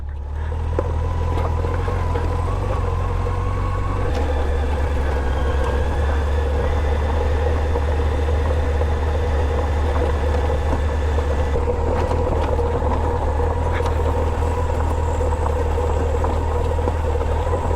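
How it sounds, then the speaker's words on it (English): A 700-pound motorcycle rides along with a steady, loud low engine drone and wind rush that continues throughout, its pitch shifting slightly as the ride goes on. "700-pound motorcycle"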